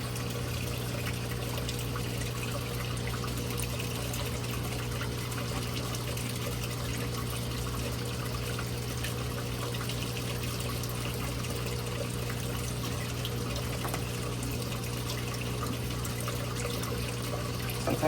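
Water trickling and pouring steadily as baby pleco fry are released into an aquarium breeder box, a soft continuous flow over a constant low pump hum.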